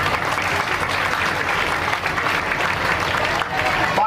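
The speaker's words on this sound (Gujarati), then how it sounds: "પ્રવીણભાઈ માટે આપણે એક સારી તાળીઓ પાડીએ." An audience applauds a donor at a Devipujak community honours ceremony for bright students in Mahesana, with steady, dense clapping filling the hall and continuing without a break from start to finish.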